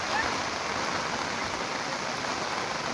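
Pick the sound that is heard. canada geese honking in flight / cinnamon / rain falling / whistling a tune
rain falling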